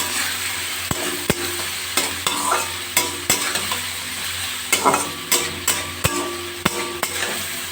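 Pumpkin pieces for a sweet pumpkin ghonto are stirred and fried in oil in a pan over a gas flame, a steady sizzle broken by repeated sharp scrapes and clacks of the spatula against the pan, close and clear, with no talking.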